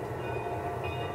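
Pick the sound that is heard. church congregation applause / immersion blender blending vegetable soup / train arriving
train arriving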